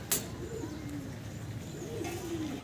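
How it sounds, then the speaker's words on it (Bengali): A racer pigeon in cream bar colour, kept among fancy pigeons, coos in steady low rolling phrases, close and clear over a faint hum, with one sharp tap near the start. "সিঙ্গেল আমরা আরও এক পিস কবুতর দেখাচ্ছি আপনাদেরকে"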